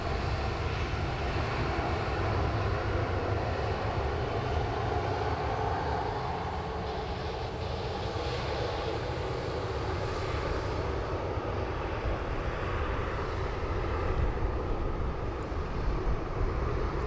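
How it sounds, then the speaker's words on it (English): An Airbus A321neo takes off from runway 16 left at Sydney with a long, continuous engine roar, a broad rumble that dips slightly midway and then builds again, heard alone without talk. "off she goes down for our runway 16 left departure"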